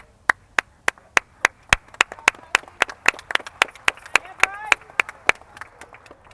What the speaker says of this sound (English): Yeah, I started to clap.